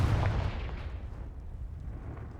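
A Confringo blasting spell in Hogwarts Legacy, heard as a single heavy booming explosion at the start that rumbles and fades out over two seconds.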